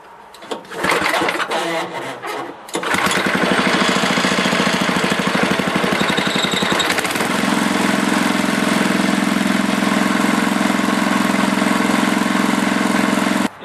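Warm Tecumseh snowblower engine with a rebuilt carburetor is pulled over and sputters, then catches and settles into a steady, loud, close idle with a rapid rattling beat.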